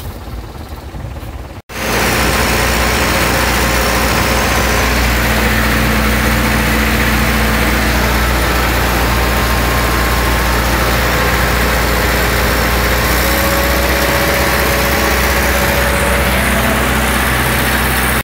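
Case 830 tractor engine running on a hillside field: after a brief quieter moment, a loud, steady, low diesel idle rumble continues throughout.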